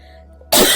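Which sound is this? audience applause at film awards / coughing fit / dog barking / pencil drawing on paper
coughing fit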